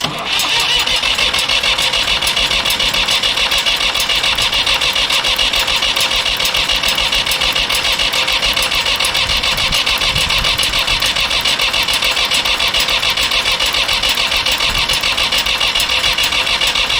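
An Allis Chalmers 160 tractor engine that has been sitting cranks continuously on its starter without catching, a rapid, steady, close mechanical whirring throughout.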